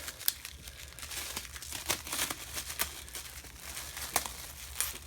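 Plastic wrap crinkles and crackles around a WWE championship belt during unboxing, a run of close, irregular rustles and sharp crinkly bursts with no talking.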